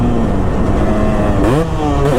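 A 2005 Kawasaki KX250 two-stroke dirt bike engine while riding, held in one gear with a loud, steady buzzing drone that rises and dips in pitch, close up and without talk.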